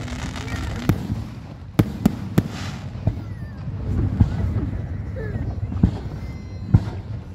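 Sharp cracks and pops come from firework rockets bursting at an outdoor grand finale show in North Palm Beach, several at irregular intervals above a steady crowd murmur and wind, with people talking throughout.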